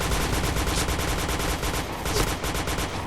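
Rapid automatic gunfire in the online shooter Point Blank, a continuous stream of fast evenly spaced shots throughout, loud and close, with no voices over it.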